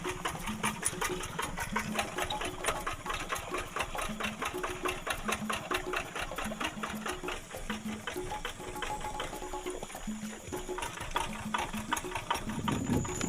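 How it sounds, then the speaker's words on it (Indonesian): Tractor engine running steadily while plowing a rice field, a continuous fast-ticking mechanical chug at constant moderate level with no pauses and no talk. "Suara mesin traktor semakin ribut"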